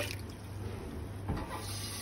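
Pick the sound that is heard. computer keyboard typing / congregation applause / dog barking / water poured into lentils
water poured into lentils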